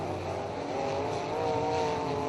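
UMP modified race cars roar continuously around a dirt track during a race, a loud, steady blend of engines with no voices over it.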